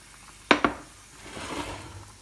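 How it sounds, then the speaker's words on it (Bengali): Fried garlic and onion are tipped onto cooked masoor dal: two sharp clinks of a utensil against a pot, then a soft, brief rustling pour and faint sizzle. "এখন আমি এই রসুন এবং পেঁয়াজ ভাজাটা আমার সেই ডালের উপরে দিয়ে দিব"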